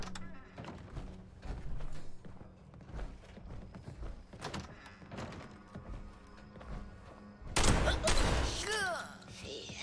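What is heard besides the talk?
gunfire from Fallout 76, video game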